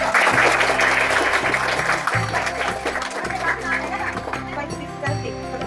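A group of children at a summer camp clap their hands in lively applause, loud at first and then tapering off, with a voice speaking over the clapping.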